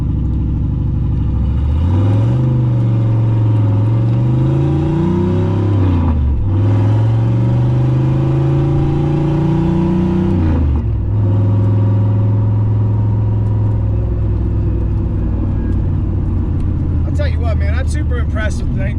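Turbocharged Ford Foxbody with a GT40-headed engine running 6-7 pounds of boost, revving up through repeated rising pulls and shifts, loud and close from inside the car with a steady engine drone after.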